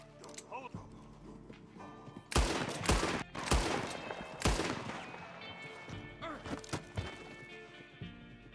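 Gunshots in a Red Dead western game: several loud, sharp blasts spaced a second or so apart in the middle, with hoofbeats and other game sounds faintly underneath.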